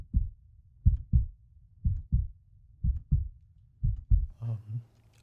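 A heartbeat sound effect: slow, steady lub-dub double thumps, deep and fairly loud, repeating about once a second with no talk over them.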